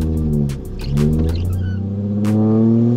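A car engine revs hard with a steady low harmonic drone as the car drifts into a corner, loud and continuous, its pitch dipping and climbing again with brief bursts of higher noise layered on top.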